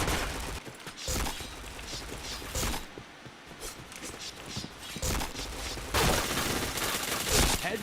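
Rapid bursts of gunfire crackle through a video game shooter, dense and continuous with brief lulls, mixed with footsteps and mechanical clicks while players talk excitedly over it.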